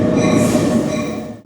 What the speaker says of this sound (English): so my train is here